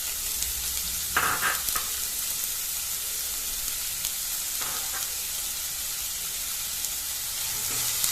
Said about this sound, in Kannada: ಈಗ ನೋಡಿ ವೀಕ್ಷಕರೇ, ಎಣ್ಣೆ ಬಿಸಿ ಆಯಿತು. ಇದರಲ್ಲಿ ನಾನು ಈ ಸಣ್ಣದಾಗಿ ಹೆಚ್ಚಿಟ್ಟಂಥ ಈರುಳ್ಳಿನ ಸೇರಿಸ್ತಾ ಇದ್ದೇನೆ.